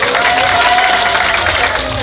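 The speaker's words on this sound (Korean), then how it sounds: "박수 한번 주세요." An audience applauds steadily at a live show by a trot singer, the dense clapping loud and continuous, with a faint sustained tone above it.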